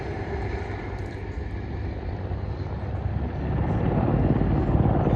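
A Mil Mi-35 Hind attack helicopter, an export Mi-24V, turns away at the Duxford Battle of Britain Airshow with a steady rumbling rotor and engine roar heard from a distance, swelling slightly louder toward the end.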